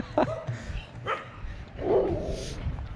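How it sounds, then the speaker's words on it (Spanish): Several dogs barking outdoors, a few sharp separate barks and yips spaced across a few seconds, moderately near over low background rumble. "Tienen varios perros ahí"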